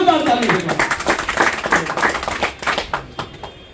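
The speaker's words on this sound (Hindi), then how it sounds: "ऐसे भाई बनवारी लाल बंसल की जोरदार तालियां दें।" Guests at the Radha Rani Mangal Parivar oath-taking ceremony clap loudly for Banwari Lal Bansal, a brisk, close burst of hand claps that thins out toward the end, with a voice talking at the start.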